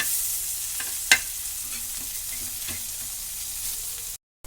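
Breadfruit slices fry in hot oil in a pan, giving a steady bright sizzle and crackle with a few sharper pops, close and continuous without voices.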